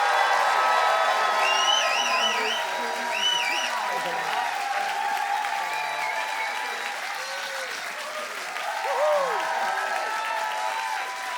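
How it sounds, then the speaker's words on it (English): Live audience at a podcast stage event applauding and cheering to welcome a guest onto the stage, dense sustained clapping with whoops and shouts, loud and continuous throughout. "Please do lots of clapping, cheering, break laws if necessary to welcome to the stage Russell T Davies!"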